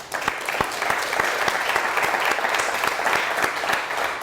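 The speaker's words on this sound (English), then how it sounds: "a round of applause for what he's been doing" Audience clapping for Edible Arrangements founder and CEO Tariq Farid, a steady, dense round of applause from a crowd that holds at even volume throughout, with no talking over it.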